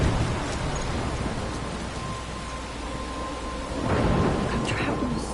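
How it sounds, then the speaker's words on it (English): Storm in the game Life is Strange near a lighthouse, a dense steady wash of rain with a deep rumble of thunder swelling near the end, loud and continuous. "I'm trapped in a storm?"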